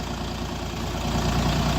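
A DongFeng 244 Chinese mini tractor engine runs steadily in Vesele, Kirovohrad region, a constant low, even rumble with no pauses or revving.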